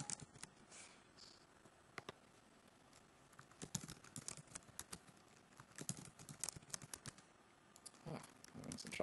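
Someone types a passphrase on a computer keyboard while setting up git and GitHub, irregular quiet key taps in short bursts over a faint room background.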